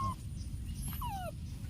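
An abandoned puppy left on the street whimpers in a few short, high, thin whines, close by over a low rumbling background.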